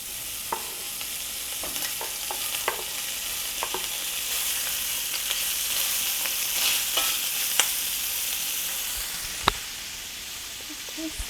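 Smoked sausage fries in a pan with a steady hissing sizzle, joined by occasional taps and scrapes as it is stirred, including one sharper knock near the end, close by with no speech.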